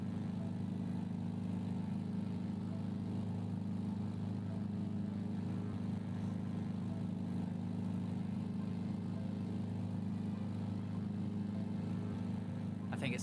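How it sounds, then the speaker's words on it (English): A steady, droning piston aircraft engine hums continuously in a flight simulator during a long-distance memorial flight leg from Natal, Brazil to Senegal, even and unbroken throughout with no clear change in pitch. "someone must be either very close to me, or my engine sound's gone weird"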